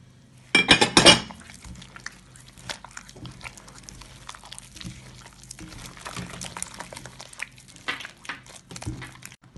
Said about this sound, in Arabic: وغادي نخوي هنايا 5 ديال البيضات